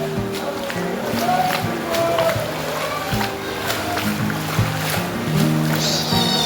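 Sloshing, splashing water as someone wades into Robbers Cave (Guchhupani), near and steady, with voices and echoing chatter in the background.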